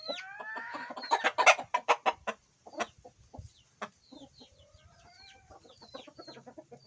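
A Talisay-type fighting rooster clucks repeatedly at close range in a series of sharp, varied calls, with other fowl faintly audible in the background.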